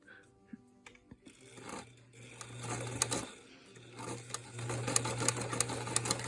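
Sewing machine doing machine appliqué with a very tight stitch, running slowly: a steady low motor hum with soft rhythmic needle clicking, close by, pausing briefly midway before resuming.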